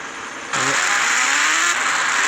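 A TVS motorbike engine in a GTA-style video game, which revs up sharply and then holds a loud, steady roar with a rising whine. No one speaks over it.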